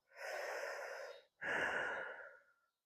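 Two deep, audible breaths during a fascial stretch for hip and lower back pain, each a smooth airy rush lasting about a second, close to the mic with a short gap between them.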